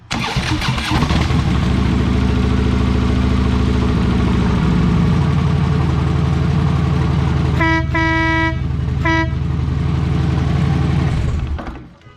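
A newly installed motorcycle horn honks in two short loud toots over the bike's running engine, which idles steadily throughout before shutting off at the end.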